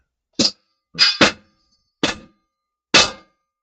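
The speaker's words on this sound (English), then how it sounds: "Sorry for the noise. She's hammering it." Five sharp metallic strikes of a hammer on metal in a workshop, spaced irregularly, one quick pair among them, each ringing briefly before silence, with no voices.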